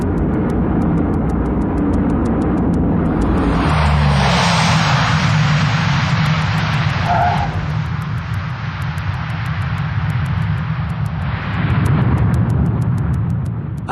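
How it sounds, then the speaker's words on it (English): A Hercules turboprop transport aircraft makes a tactical landing, a loud, sustained roar of engines and propellers with a surging rush as it brakes to a halt, heard alone without voices. "A tactical landing."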